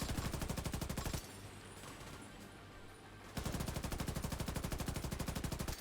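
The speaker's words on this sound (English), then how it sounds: "I got a machine gun." A machine gun in The Division 2 on hardcore mode fires long, rapid, evenly spaced bursts, loud and close, breaking off for about two seconds before hammering away again.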